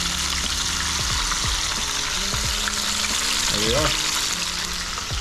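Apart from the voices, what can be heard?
fish pieces covered in Frank's sauce frying in a pan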